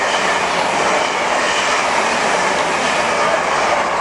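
A train rushing through Ealing Broadway station, a loud, close, continuous roar of wheels and motors with no talking.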